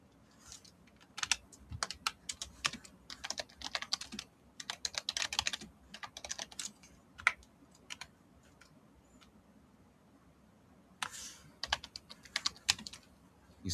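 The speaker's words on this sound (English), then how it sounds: "I'm typing." Fingers typing on a computer keyboard, close and crisp, in quick clattering bursts of keystrokes broken by short pauses, with a longer gap before a final flurry.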